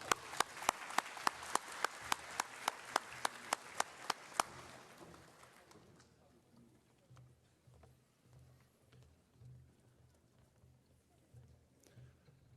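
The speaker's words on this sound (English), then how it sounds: "I hope everyone just give them another big round of applause" Several hands clap in slow, loud, evenly spaced claps for kapahaka performers at a graduation ceremony, starting near and sharp, then dying out after a few seconds into quiet murmur and low room noise.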